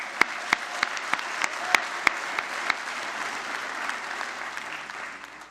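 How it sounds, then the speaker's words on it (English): Graduates applaud at a Mohawk College convocation for the business, media and entertainment school, a dense burst of clapping with several sharp individual claps standing out early, gradually fading over five seconds. "Give yourselves a round of applause."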